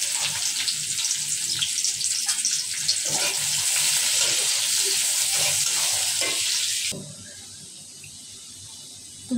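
Chopped onions hit hot oil with cumin in a wok, giving a loud, close, continuous sizzling hiss that suddenly drops to a quieter simmer near the end.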